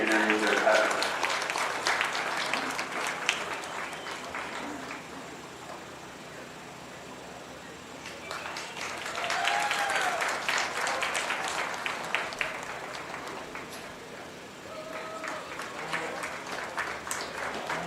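A crowd at a 4-H beef cattle show at a county fair claps in a sustained, swelling round of applause across a large indoor space, rising and falling in waves with faint talk underneath.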